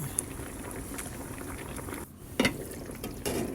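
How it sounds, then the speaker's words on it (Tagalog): Quiet bubbling of a pot of cabbage rolls boiling, a soft continuous simmer with a few louder pops and clinks near the end. "kumukulo na guys"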